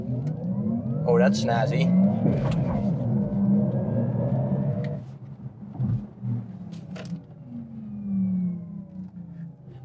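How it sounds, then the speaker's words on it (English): A Porsche Taycan GTS electric car launching hard under launch control, with a rising electric whine and road rumble that swell, ease, then build again, heard from inside the cabin while a person speaks briefly. "Launch control in the Taycan GTS."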